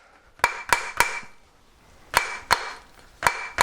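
Rawhide mallet striking a metal ring on a mandrel, seven sharp ringing blows in quick groups of three, three and one, each a bright metallic strike with a short shimmering decay, close and clear with no talk.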